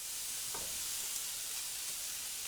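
Bacon and diced onion frying in a pan for a quiche Lorraine, giving a steady, fairly quiet sizzling hiss throughout with one soft clink near the start.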